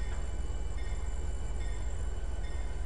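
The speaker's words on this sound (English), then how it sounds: "So Harry's slowing down now to reconnect with his train." Freight train in Trainz 2019, a CN mixed freight easing down to couple back onto its cars, gives a steady low rumble of rolling rail noise with faint high squeal, continuous and even throughout.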